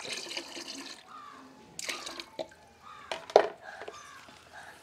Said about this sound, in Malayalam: ഇതിനകത്ത് നമുക്ക് കുറച്ച് ഫിഷ് എമ്മിനും ഒഴിച്ചു കൊടുക്കാം